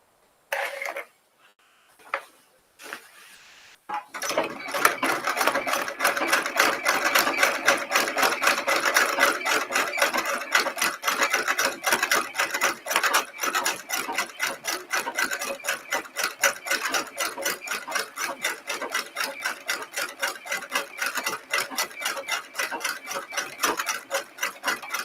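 A sewing machine stitches flowers in thread, a dense, rapid run of mechanical ticks and rasping strokes that starts after a few seconds of quiet and runs steadily and close for the rest of the clip.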